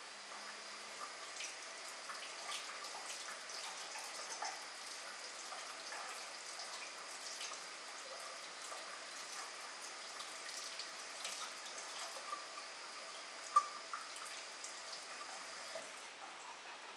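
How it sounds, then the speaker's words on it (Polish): Hot tap water runs steadily into a sink for a long stretch, a constant splashing hiss with occasional small clinks, while a ham cooker is rinsed under it. "możemy go wyciągnąć i wsadzić pod gorącą wodę"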